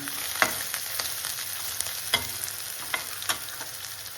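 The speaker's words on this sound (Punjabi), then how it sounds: "ਆਪਾਂ ਸਲੋ ਫਲੇਮ ਤੇ ਨਾ ਹੌਲੀ ਹੌਲੀ ਆਪਾਂ ਇਹਨੂੰ ਬਰਾਊਨ ਕਰਨਾ" Onions browning slowly in a pan over a low flame make a gentle, continuous sizzle, broken by several sharp taps and scrapes from stirring.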